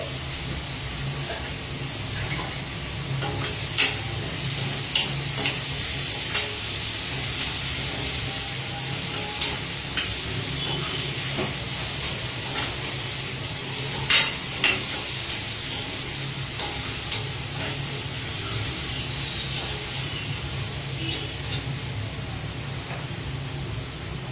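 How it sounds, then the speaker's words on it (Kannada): Onions fry with salt in a pan, a continuous low sizzle and hiss running under occasional light clicks of a spatula, fairly quiet and steady, no voices. "ಉಪ್ಪು ಸೇರಿಸೋದ್ರಿಂದ ಈರುಳ್ಳಿ ಬೇಗನೆ ಮೆತ್ತಗಾಗಿ ಫ್ರೈ ಆಗುತ್ತೆ."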